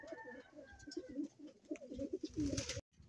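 A pet pigeon coos nearby in soft, repeated throaty phrases, fairly quiet, ending in a brief rustle.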